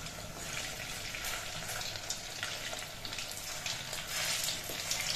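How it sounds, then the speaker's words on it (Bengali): Papaya koftas fry in hot oil over a medium flame, giving a soft, continuous crackling sizzle that stays fairly quiet and even throughout, with no voices. "কোপ্তাগুলোর এক পিঠ কিছুক্ষণ ভাজা হয়ে যাওয়ার পর এবার উল্টে দিচ্ছি।"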